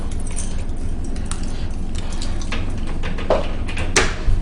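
Near the end of a short stretch of steady background noise, a key works an apartment door lock and the door is opened, with a few close metallic clicks and clunks.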